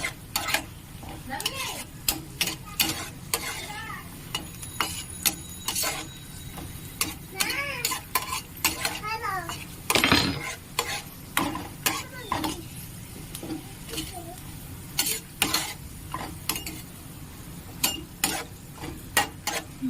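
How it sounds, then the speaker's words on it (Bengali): Food shallow-fries in oil in a pan for a paneer masala, with a constant crackling sizzle, a sharp ticking bubble of oil and frequent metal clinks and scrapes from stirring close by. "একদম হালকা লাল করে ভেজে নেব, খুব বেশি ভাজার দরকার নেই।"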